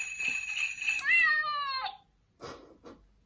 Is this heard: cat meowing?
yes